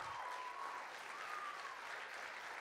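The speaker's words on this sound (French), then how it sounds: "Donc, on applaudit nos jeunes de l'an passé." A school talent-show audience claps at a local final, a soft, continuous patter of many hands heard from a distance and holding steady throughout, with a faint tone drifting in the background.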